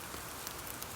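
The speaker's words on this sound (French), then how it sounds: "La pluie, elle, continue de tomber." Steady rain falling in a children's audiobook, a continuous soft hiss of drops with faint patters and no voices, evenly loud through the second.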